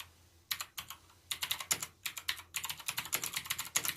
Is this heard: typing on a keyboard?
yes